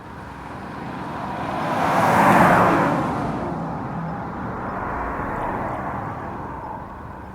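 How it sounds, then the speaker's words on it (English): An AI-generated sports car passing by, its engine roar swelling to a loud peak as it draws near, then fading away as it recedes into the distance. "So this prompt is sports car passing by."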